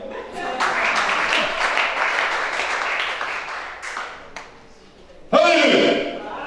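Congregation at a church service in Gabon applauding, a steady wash of clapping that runs for several seconds, fades, then bursts back loudly near the end, with voices mixed in.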